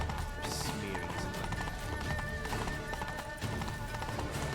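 A horse gallops in the video game The Witcher 3: Blood and Wine, rapid rhythmic hoofbeats clopping steadily over ground, loud and close, with a brief whinny near the start and faint background game sounds.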